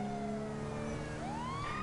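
A video game police car siren wails steadily with a rising pitch sweep near the end, loud and continuous against engine rumble, with no voices.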